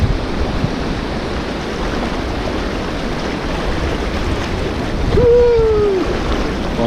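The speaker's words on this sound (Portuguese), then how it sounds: "A maré está subindo" Steady rushing water from a small river meeting the beach at Ilha Comprida as the tide rises, a constant loud wash with wind noise, and a brief tonal whistle-like sound near the end.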